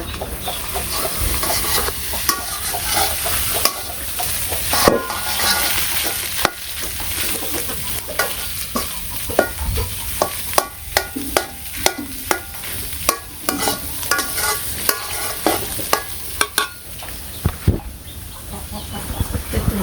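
Food frying with salt and turmeric in a pan, a loud continuous sizzle broken by frequent sharp scraping stirs of a utensil against the pan, close up, with a faint voice in the background.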